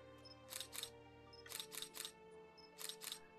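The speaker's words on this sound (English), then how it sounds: "that shutter noise is hell loud" A camera shutter fires in quick double clicks, three pairs spaced about a second apart, crisp and close over a quiet steady hum with no talking.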